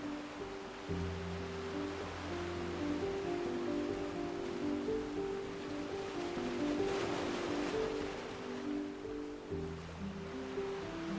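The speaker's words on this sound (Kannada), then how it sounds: "ಸಮುದ್ರದ ಮಂಗಲ ಗಾಯನ, ದಿನದ ಕೊನೆಯ ವೇವ್." Sea waves at Radhanagar Beach on Havelock Island in the Andamans, a continuous rushing surf that stays steady throughout, with sustained musical tones layered over it.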